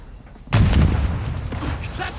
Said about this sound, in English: Oh, someone shot a javelin.